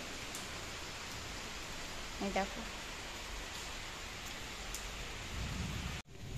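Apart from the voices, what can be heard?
heavy rain falling outside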